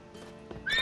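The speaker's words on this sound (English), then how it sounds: "Calling all the horses before they wake the guards." Horse in the video game The Witcher 3 gives a short, sharp neigh with a rising whinny at the end, close and alone, over faint hoof clip-clop.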